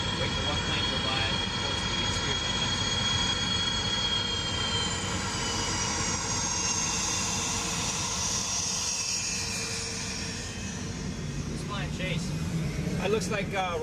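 A jet airplane flies at Edwards Air Force Base, its steady roaring engine noise filling the scene continuously, fairly loud and sustained, while people talk nearby.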